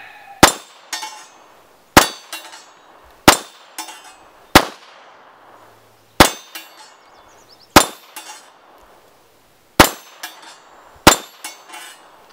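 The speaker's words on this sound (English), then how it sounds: "my CZ85 I'm going to put a few rounds onto the target and see how it reacts to 9mm" Nine-millimetre rounds from a CZ85 pistol strike a steel hostage target, eight sharp metallic clangs spaced about 1.5 seconds apart, each ringing out briefly before fading.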